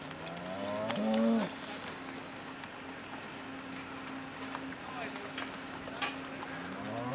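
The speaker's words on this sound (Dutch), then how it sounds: "hoe de koeien hier zich te goed doen aan de mais en aan de kuil" Cattle feeding on maize and silage in an open-air system give a short low moo, with people talking over a steady outdoor background.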